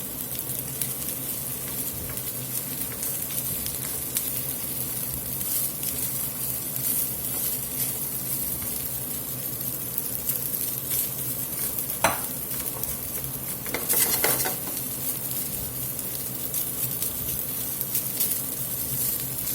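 Beef short rib and crab fried rice sizzling steadily in a hot pan while being stirred, a continuous close crackle with scraping stir strokes and a couple of sharper clatters midway.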